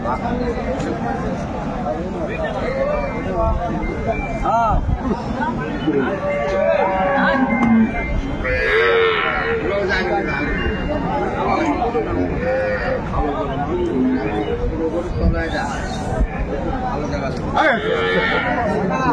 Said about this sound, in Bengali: এখানে একটি গাভী বাছুর দেখছেন